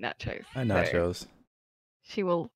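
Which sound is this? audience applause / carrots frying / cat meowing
cat meowing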